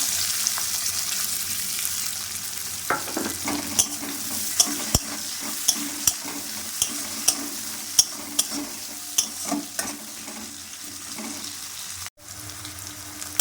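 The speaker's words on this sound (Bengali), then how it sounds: "দিয়ে একটু নাড়াচাড়া করলাম দুটো পেঁয়াজ কুচো চার পাঁচটা লঙ্কা কুচো দিয়ে দিলাম" Chopped onion, green chilli, cumin and bay leaf fry in oil for a rui fish curry with cauliflower and potato, a continuous near sizzle punctuated by regular sharp spatula taps and scraping stirs.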